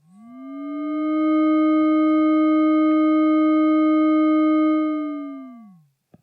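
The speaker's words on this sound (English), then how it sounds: "if you want to have an atonal sound with a pitch drifting up or down" A single sustained FM synth tone from a BRENSO oscillator, with metallic, inharmonic overtones, swells in, its pitch rising slightly at the start and sagging down as it fades.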